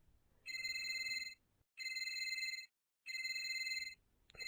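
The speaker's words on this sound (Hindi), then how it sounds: "और तभी अचानक से उसका फोन बज उठता है।" A phone ringtone plays three repeated bursts of bright electronic tones with short pauses between, fairly close, with no talking.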